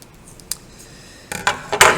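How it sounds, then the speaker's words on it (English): Scissors snip at yarn on a handmade yarn bird, a few sharp metallic clicks near the end after a quiet stretch, close and crisp. "I'm going to use my scissors just to kind of trim it"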